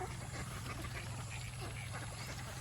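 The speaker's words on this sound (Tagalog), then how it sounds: "Ayan na po yung ating mga itik. Nanginginain na ng kanilang agahan." Ducks feed in the morning near a farm pond, with soft quacking and low croaky calls over a steady, faint outdoor hum.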